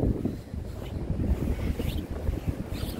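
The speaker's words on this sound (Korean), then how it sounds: "파도가 좀 높네요 오늘은" High sea waves crash and surge against the breakwater of Imwon harbour, a continuous rough wash of water with gusty wind noise buffeting the microphone throughout.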